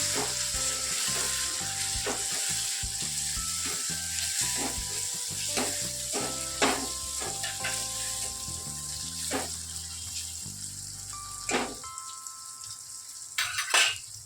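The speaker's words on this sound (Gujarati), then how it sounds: "તો જો ડુંગળી ને શેકાઈ ગયું છે, તો હવે એમાં ટમેટા નાખી દેવાના" Chopped tomato is added to sautéed onions for Kathiawadi-style dal fry. The result is a steady, close sizzle of frying with stirring clatters and spoon knocks, then a few sharper taps toward the end, with no talk.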